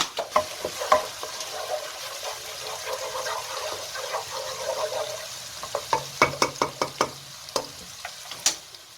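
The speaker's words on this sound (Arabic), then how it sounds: "راح اتركهم ينحمسون شوية." Minced ingredients, including chopped green pepper, fry in a pot for rice and meat kabsa. There is a soft, steady sizzle, and a utensil knocks and scrapes several times, sharply toward the end.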